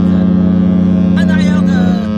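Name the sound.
departing ship sounding its horn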